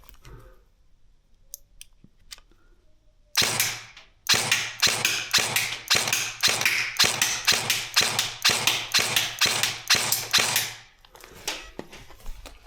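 A Krytac Rec 7 airsoft rifle fires .32 BBs at a target about 10 meters away: a rapid string of sharp, crisp mechanical snaps in steady rhythm, close and loud, preceded by a few faint clicks and ending in quiet.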